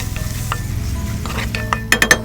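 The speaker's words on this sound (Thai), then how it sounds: "ผัดกระเทียมของเราให้เหลืองหอมก่อนนะครับ" Garlic and soaked dried shrimp stir-fry in a pan, giving a steady sizzle broken by scraping stirs and a few sharp clinks of a utensil against the pan near the end.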